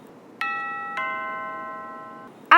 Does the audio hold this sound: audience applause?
no